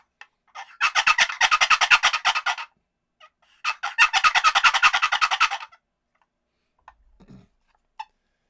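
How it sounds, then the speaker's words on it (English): A walnut turkey box call plays two long, rapid gobbles in succession, each a loud, close, rattling run of about two seconds, separated by a short pause, followed by a few faint clicks. "I like the way the gobble pops off in the walnut a little better."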